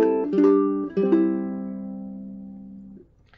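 Ukulele fingerstyle phrase from How Deep The Father's Love For Us, a few plucked notes followed by strummed chords that ring out and slowly decay, close and clear with no talk.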